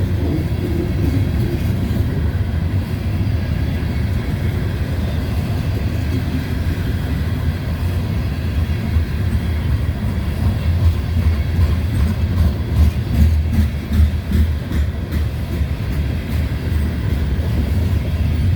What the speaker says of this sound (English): We got another grain train here.